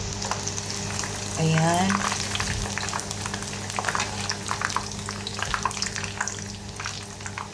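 Kangkong (water spinach) leaves frying in hot oil, a steady broadband sizzle running throughout with brief stirring clatter, while a voice speaks briefly over it.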